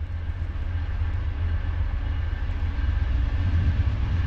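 A freight train rolls past close by with a loud, steady rumble and faint clatter of wheels throughout. No clear horn toot stands out.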